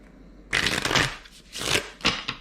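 Cards for a reading are shuffled in two or three quick riffling bursts, crisp and close, with a short pause between them.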